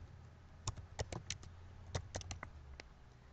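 Someone types a short text on a computer keyboard, with a few sparse, light key taps spread over a few seconds, faint and close in a quiet room.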